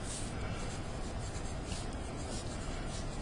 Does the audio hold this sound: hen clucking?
no